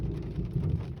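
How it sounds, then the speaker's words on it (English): A storm as heard from inside a car: rain drums steadily on the vehicle under a low rumble of thunder. "You hear that thunder?"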